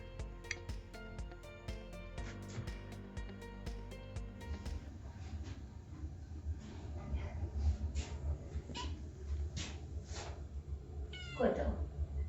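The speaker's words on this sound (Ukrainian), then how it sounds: "Це в бабушки такий кіт." A cat meows near the end, after a stretch of tinkling chime-like tones and soft household noise.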